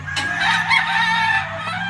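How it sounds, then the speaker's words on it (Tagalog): A white Kelso gamecock brood cock crows on a gamefarm, one loud, close, sustained cock-a-doodle-doo with a raspy, harmonic tone, with faint clucking from other fowl underneath. "This is our white Kelso pen. This is the brood cock."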